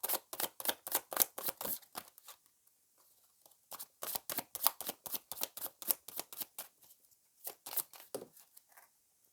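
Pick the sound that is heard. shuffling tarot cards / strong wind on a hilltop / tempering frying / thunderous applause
shuffling tarot cards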